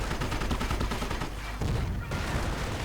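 MG42 machine gun fire in a World War II video game battle against Sherman and Panzer IV tanks: dense, continuous rattling bursts mixed with booming explosions, loud throughout.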